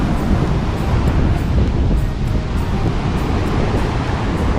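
Strong wind buffets the microphone at a beach at Pithrody Udyavar, a loud continuous roar with surf blended underneath and no break for the whole stretch.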